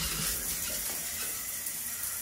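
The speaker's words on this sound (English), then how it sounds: "Let's see the water pressure before I forget." A hotel bathroom tap runs steadily, its water hissing faintly and evenly for a couple of seconds with no other sounds.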